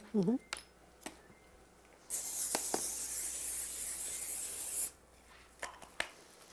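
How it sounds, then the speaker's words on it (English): A steady hissing spray of canola oil bursts out for about three seconds, close by, framed by a few short clicks and knocks before and after. "We use a canola spray."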